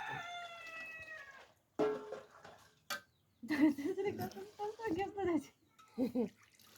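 A rooster crows near the start, a drawn-out call with clear rising harmonics, followed by people talking loudly in Hindi over a short pause.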